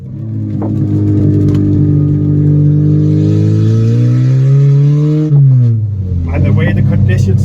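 An Abarth car engine revs with a newly fitted exhaust, loud and close, its tone climbing steadily and holding high before dropping back to a burbling idle with crackles near the end.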